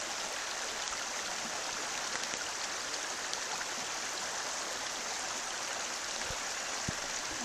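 Heavy rain pouring down outdoors at a gold prospecting site in New Zealand, a dense, steady hiss of falling water with occasional louder drops, close and continuous with no voices.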